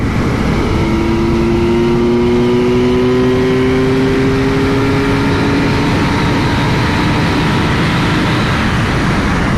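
A Kawasaki Z900 motorcycle engine roars at high speed with a rising whine as it accelerates past 200 km/h, heavy wind rush all around.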